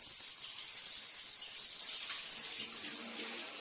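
Cold shower water runs in a steady, close hiss of spray, with no voices.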